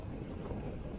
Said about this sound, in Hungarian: mára megfordult teljesen a szél, tehát megint szemből fúj